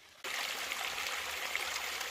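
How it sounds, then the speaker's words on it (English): Creek water flows over bedrock in a mineralized zone, a steady close rushing babble that starts abruptly and continues evenly without talk. "We just walked down this creek here."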